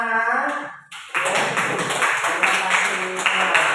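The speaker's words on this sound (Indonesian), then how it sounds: "Baik, tepuk tangan anak-anak." Students in a classroom clap together on cue, a dense burst of hand claps starting after a brief pause and continuing steadily at close range.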